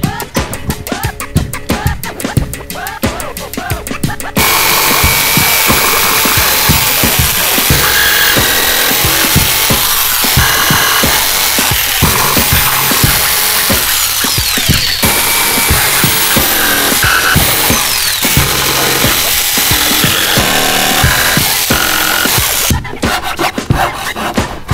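Power saw cutting corner notches for casters out of wooden bed boards, a loud continuous grinding rasp that runs steadily for most of the stretch, with brief quieter handling at the start and end.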